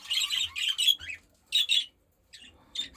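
A young budgerigar gives bright, scratchy chirps and squawks in short bursts with brief pauses between them, close and clear against a quiet indoor background with no talking.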